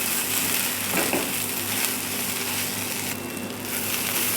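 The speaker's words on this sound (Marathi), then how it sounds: "अद्रक हे सगळं घालून घ्यायचं आहे आणि एक दोन मिनिट फ्राय करून घ्यायचे" Ginger and masala fry in hot oil for a spicy Maharashtrian mutton curry, making a steady, dense sizzle throughout. It sounds close and fairly loud, with a brief stirring scrape partway through.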